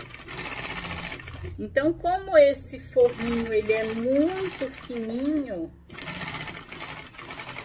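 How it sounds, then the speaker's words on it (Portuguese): Sewing machine running a safety seam on a thin pouch lining, a steady close whirring drone under someone speaking Portuguese throughout, with a short pause near the end. "passar uma costurinha de segurança, que é isso que a gente faz em qualquer material"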